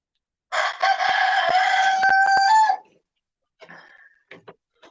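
A pet bird calls loudly from its cage in a home, giving a sustained, harmonically rich crowing call for about two seconds, then a few short, fainter chirps and squawks after a pause.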